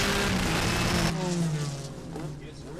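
A 2002 Speed World Challenge GT race car at Road America blares its engine at full power, then drops sharply in pitch through a gear change and fades as it pulls away. Commentary talk runs over the engine throughout.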